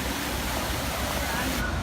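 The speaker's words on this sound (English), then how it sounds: "you can see that there's water streaming down it" Water streams down a tall glass wall in Melbourne, a dense continuous rushing hiss filling the air at close range.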